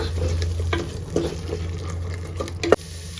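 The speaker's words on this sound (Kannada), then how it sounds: "ಇವಾಗ ಇದೆಲ್ಲ ಚೆನ್ನಾಗಿ ಹಸಿ ವಾಸನೆ ಹೋಗಲಿ, ಅಲ್ಲಿವರೆಗೂ ಫ್ರೈ ಮಾಡ್ಕೊಳ್ಳೋಣ" Masala for a mushroom biryani sizzles gently in a pan while a spoon stirs and scrapes at an irregular pace, ending with one sharper knock near the end; no voices.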